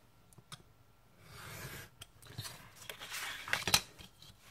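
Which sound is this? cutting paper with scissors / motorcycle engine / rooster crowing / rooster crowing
cutting paper with scissors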